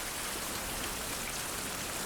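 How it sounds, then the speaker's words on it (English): Steady rain falls in the survival video game Fountain of Youth, a dense, even hiss of drops on surfaces that holds at one level throughout, with no voices. "and then it started raining."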